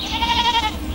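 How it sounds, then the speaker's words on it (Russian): A goat gives one loud, close, wavering bleat that lasts nearly a second, alone with no talk. "Хорошая коза"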